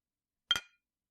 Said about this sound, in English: perhaps she might hear the clinking of the glass from all the way up there